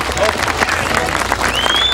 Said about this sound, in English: Tremendous cheer for him, Paul Lupton.